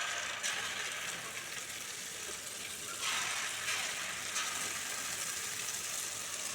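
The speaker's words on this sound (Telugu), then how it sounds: "మనం దీంట్లోనే కొంచెం పునుగులు వేసుకుందాం" Leftover dosa batter fritters (punugulu) frying in hot oil, a steady close hiss and sizzle with a few brief surges as more batter goes in, no voices.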